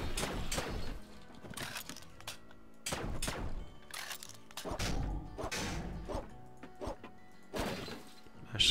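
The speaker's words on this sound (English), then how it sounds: "Okay, so we can test the gun now." Gun fired in the Cargo Commander game, repeated sharp bursts of blasts in irregular clusters with brief gaps, loud and close with no talk.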